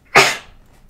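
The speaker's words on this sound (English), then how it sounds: "I gotta sneeze." A single sharp, loud sneeze bursts out close by and fades quickly, heard during a Minecraft modding session.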